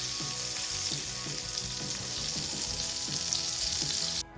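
Butter melting into hot oil in a frying pan, a loud continuous sizzle with a rhythmic bubbling undertone that cuts off abruptly at the end.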